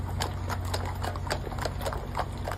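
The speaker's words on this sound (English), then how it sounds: "Also horse. Multiple horses." Several horses clip-clop on pavement outside a county ballot tabulation center during a protest, a steady rhythmic patter of hooves at moderate distance over a constant low rumble.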